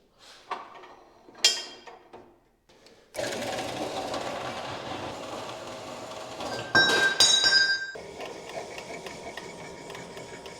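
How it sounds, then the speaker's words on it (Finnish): A drill bores holes in steel for homemade tractor lift bars on a Dexta, a loud steady grinding whir after a few clinks of metal handling, with a sharper screeching burst partway through. "Eli nyt on tässä porrailu"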